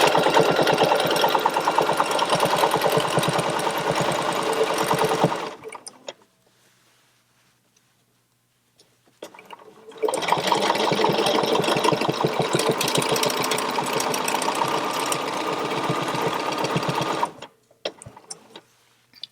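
A sewing machine stitches through a real quilt during ruler quilting around a pinwheel block, running loud and steady in two long bursts separated by a few seconds of near silence.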